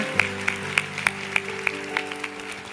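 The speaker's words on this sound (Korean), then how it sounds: "우리 한번 사랑과 또 존경과 축복의 박수 보내겠습니다" During a Korean church service, hand claps ring out in a slow, even rhythm, about three per second, over a sustained keyboard-like tone at moderate volume.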